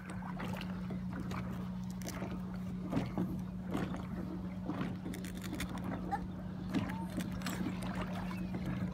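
Kayak paddling on water in North Dakota, with soft irregular splashes and strokes over a steady low hum and light wind, fairly faint, with some voices in the background.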